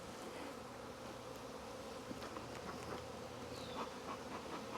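A swarm of honeybees hums in a dense, continuous buzz near a hive, individual bees droning past close by against the steady background of the mass.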